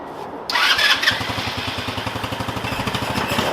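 A Yerf Dog Spiderbox go-kart engine is pulled over and catches, then settles into a loud, close, rapid putter after the fuel line is reopened.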